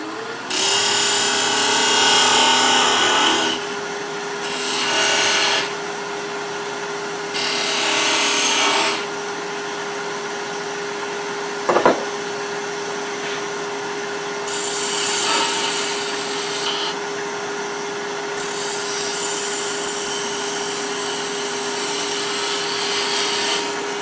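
A skew chisel cuts a wooden baby rattle with captive rings spinning on a lathe, giving loud bursts of scraping, hissing cutting in several passes over a steady motor hum, with one sharp knock midway and no talking.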